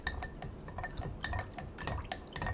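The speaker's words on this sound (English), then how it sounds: "I will fill that to about the halfway mark with the goldenrod tincture" Goldenrod tincture poured into a glass jar partly filled with honey for an herbal elixir, with soft liquid trickling and light glassy clinks and taps, no voices.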